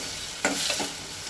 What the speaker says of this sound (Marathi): तेल तापलें काय ना तितून एक कांदो, एक मिरची आनी एक टोमाट घालून परतून घेवपाक जाय